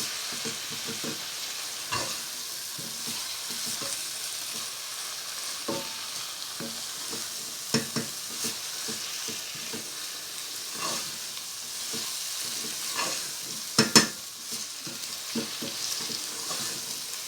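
A pan of onions and spices for a chana dal and spinach curry sizzles softly and steadily, broken by repeated spoon scrapes and taps from regular stirring.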